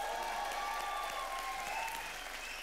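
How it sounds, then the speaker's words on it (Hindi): Sustained applause from a studio audience on a Hindi comedy show, a thick, even wash of many clapping hands that holds steady throughout and fades slightly toward the end. "ग्रैंड मस्ती 100 करोड़ के ऊपर जोरदार तालियां हो जाए।"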